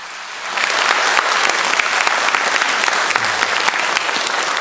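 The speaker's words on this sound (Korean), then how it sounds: "우리 큰 박수로 여러분 한번 환영해 주시면" A church congregation breaks into loud, sustained applause during a Sunday morning service, many hands clapping close and steady after a quiet start, welcoming someone as an elder presents a gift.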